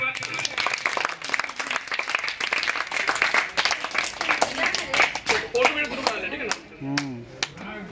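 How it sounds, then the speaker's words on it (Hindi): Applause and clapping from a gathering welcoming women of an ashram, with a crowd's voices mixed in and speech emerging near the end. "तो सबसे इन लोगों के लिए जोरदार ताली से इनको स्वागत कीजिए।"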